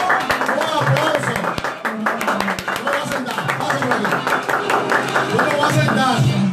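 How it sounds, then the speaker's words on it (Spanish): An audience at a live talk-show interview applauds to welcome a guest, with steady clapping under a loud host voice and tonal music throughout. "Un aplauso"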